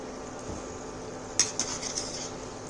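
Crunchy fried papdi being lifted out of a kadhai, a soft background sizzle broken by a few light crisp clinks and scrapes near the middle.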